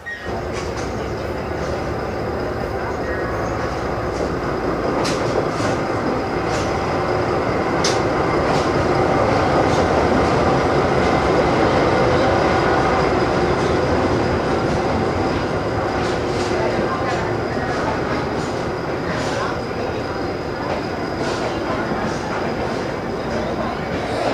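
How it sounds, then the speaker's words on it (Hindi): The Howrah Rajendranagar express shunting at a station platform, giving a steady, loud rumble of rolling coaches with faint clicks and squeals throughout. "बैकग्राउंड में आप देख पा रहे हो कि हावड़ा राजेंद्र नगर एक्सप्रेस का सेंटिंग हो रहा है।"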